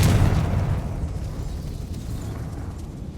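Confringo blasting spell in a video game erupting into a heavy explosion, a booming low burst at the start that rumbles and slowly fades away with no other sound.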